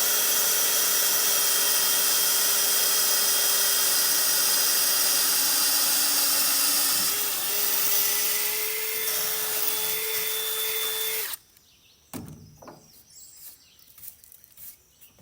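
A power drill whines continuously at high speed for about eleven seconds while drilling steel, then stops abruptly, followed by a few short bursts and faint handling noises.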